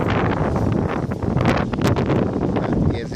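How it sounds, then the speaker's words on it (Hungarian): Stormy wind gusts hard and continuously outdoors, a loud, rough roar of buffeting against the microphone with brief surges, near and dominant throughout. "És nagyon viharos szél van."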